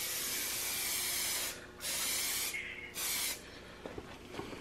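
Spray paint hisses onto a Mazda Miata in a few short bursts with brief gaps between, close and fairly soft, then light handling noises.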